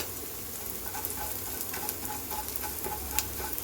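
Onion fries in a pan with cloves, cinnamon, fennel and pepper for a Karnataka-style chicken curry. A quiet, even sizzle holds throughout, with a few faint ticks and crackles.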